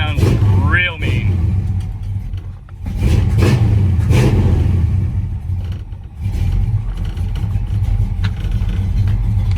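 A 1955 Chevy Bel Air with a punched-out 355 V8, dual quad Edelbrock carburetors and a Muncie 4-speed revs in loud, swelling bursts that rise and fall, with a steady rumbling idle between them and people talking nearby.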